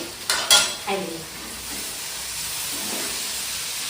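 Duck meat frying in a pan gives a steady sizzling hiss, with a few louder stirring scrapes near the start before it settles into continuous frying noise.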